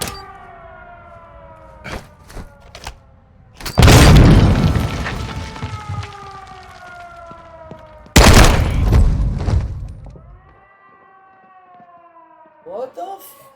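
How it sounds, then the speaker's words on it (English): A C4 explosion in Call of Duty Modern Warfare 2 gives two loud, broad booming blasts with rumbling decay over ongoing game sounds and siren-like tones, the second blast fading into quieter ambience. "How you surviving a C4 explosion?"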